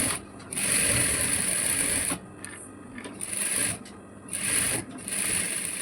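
A sewing machine stitches an Anarkali churidar made from an old saree, running in steady bursts of rapid mechanical whirring with short pauses between seams, close and clear with no talk.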